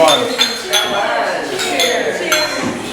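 Drinking glasses clink together in a group toast, several bright, close chinks tapping irregularly over a busy room murmur with people talking.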